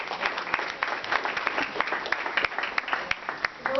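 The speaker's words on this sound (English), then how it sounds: "Let's give them a round of applause." Applause from a seated audience at a community opening and welcome event, a moderate burst of individual hand claps with distinct sharp slaps, fairly close and steady, tapering slightly at the end.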